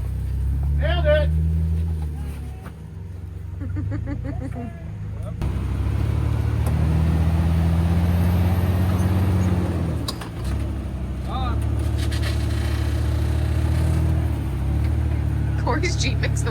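Someone's Jeep crawling off-road at Coppinger Cove, Tennessee, with a loud, low engine rumble that rises and falls throughout, and voices and whoops heard over it at times.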